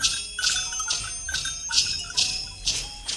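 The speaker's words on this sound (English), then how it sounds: "we've got Resonance, which is just nice little pings of the bells" A Christmas sound effect of light, ringing bell pings repeats in a loose, steady rhythm about twice a second, each chime bright and close with a short shimmering decay, heard alone.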